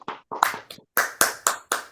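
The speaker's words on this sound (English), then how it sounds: "Let's give her a round of applause." Claps from online meeting participants with their mics unmuted, a ragged run of separate hand claps roughly every quarter second, close and fairly clear with no talking.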